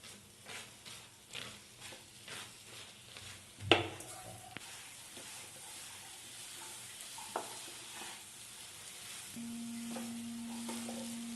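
Roasted coconut stirred into hot melted jaggery in a pan, a spoon scraping and stirring in steady repeated strokes with a soft sizzle underneath and one sharp clatter partway through.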